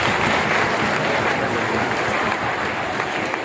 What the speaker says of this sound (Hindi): ताली हो जाए एक बार।